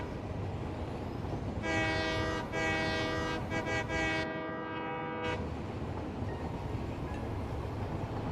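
A train in the video game Satisfactory sounds a long, loud horn blast, broken by short gaps, over the constant rumble and clatter of trains rolling past.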